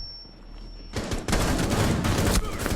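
Assault rifle fire in Rainbow Six Siege during a terrorist hunt on the reworked House map: after a quiet start, a loud, dense burst of rapid automatic shots rolls on continuously, close and harsh, with no talking.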